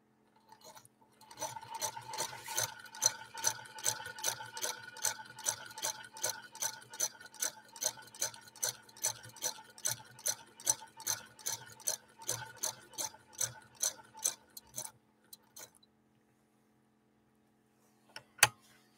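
A rare 1948 Frister & Rossmann sewing machine stitches a lock stitch in a steady run of close, evenly spaced mechanical ticks that lasts about fourteen seconds and then stops, followed by one isolated click near the end.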